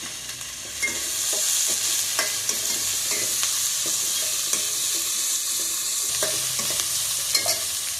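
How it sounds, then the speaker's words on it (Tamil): Onions and curry leaves sautéing in a pan for a mutton bone curry: a steady close sizzle with scattered stirring clicks and scrapes throughout, no voices. "வெங்காயத்தை அப்படியே வதங்கிக்கிட்டே இருக்கும்போது கருவேப்பிலை ரெண்டு கொத்து போட்டுருவோம்"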